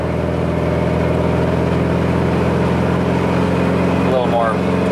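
Volkswagen 2110 engine fitted with a large exhaust, running at a steady low idle drone with a constant hum throughout, while a voice talks over it.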